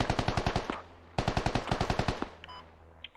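Automatic gunfire in the Squad military video game, two rapid bursts of roughly a dozen sharp shots each, loud and close, with a faint distant shot and clinks after.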